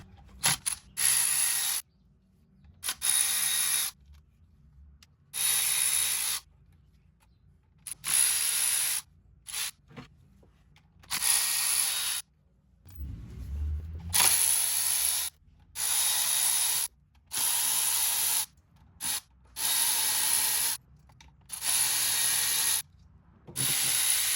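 A ratchet removing T30 oil pan bolts from a BMW M3 DCT transmission: repeated close bursts of rapid clicking, each lasting a second or two and separated by short pauses, with no talk.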